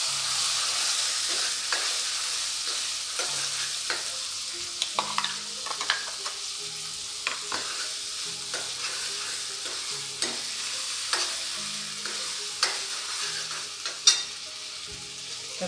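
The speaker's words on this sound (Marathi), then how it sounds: "मसाला छान आपल्याला तेलात परतून घ्यायचा आहे" Masala spices being sautéed in hot oil for a traditional Marathi raw jackfruit curry, a steady close sizzle broken by repeated scraping stirs of a spoon against the pan, with no voices.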